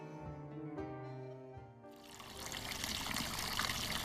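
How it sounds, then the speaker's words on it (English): Water flows steadily from a mountain spring in the hills of Puerto Rico, a continuous hissing trickle that swells louder partway through and then carries on alone without any voices. "This mountain spring was one of the few sources of water around Adjuntos"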